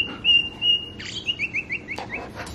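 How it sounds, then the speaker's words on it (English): An Alexa smart speaker plays a bird chirping sound: a thin high whistle followed by a quick run of bright tweets, clear and close with no talk. "what sound does a bird make?"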